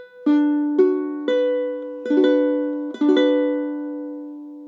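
Steady strums on a ukulele play one chord in a repeating pattern of single and doubled strokes, each ringing out between hits; close, bright and unaccompanied by speech.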